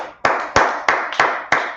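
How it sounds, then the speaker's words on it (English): A small group claps together in a Tuesday brotherhood class, with five sharp, loud, evenly spaced bursts of claps in a steady rhythm and no talk over them. "Let's clap it up."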